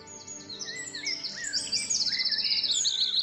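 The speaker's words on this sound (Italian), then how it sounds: "ascoltare i canti degli uccelli presenti in zona" Wild birds sing and chirp throughout, with several high, quick warbling phrases overlapping at moderate distance and a steady trilling song growing louder toward the end; no voices.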